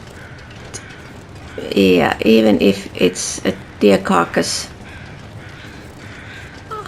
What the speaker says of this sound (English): The birds are making noise